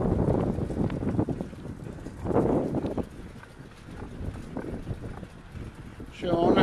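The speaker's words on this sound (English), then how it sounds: "I'm sure you can hear that wind" Strong gusting wind buffets the microphone while riding a recumbent trike on a spring outing, in a 15 mph northwest wind, a constant loud rumbling roar that swells and fades throughout.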